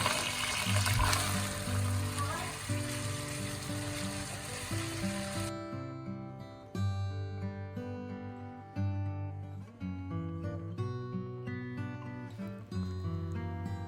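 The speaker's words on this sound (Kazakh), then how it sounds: "қызып тұрған табамызға сұйық майымызды құйып, алдын ала жуылған күрішімізді салып, жақсылап араластырып алатын боламыз" Washed rice stirred in hot oil in a pan sizzles steadily for about five seconds over background music, then the frying fades and only the music carries on.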